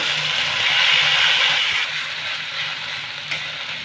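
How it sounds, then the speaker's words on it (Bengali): Ginger paste, fennel and green chili paste fry in hot oil, giving off a steady close sizzle with soft stirring scrapes that stay continuous and fairly loud throughout. "আমি বাটা মশলাটা একটু ভেজে নেব।"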